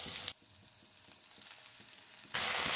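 Egg noodles and fried, chopped egg go into a hot pan of vegetables, giving a brief burst of sizzle, then a quieter stretch of low frying crackle before the loud sizzle returns, close with no voices.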